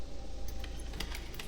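Keys jangle in a Sherlock Holmes The Awakened game scene, a short light metallic rattle with a few soft clinks over a steady low hum, no voices.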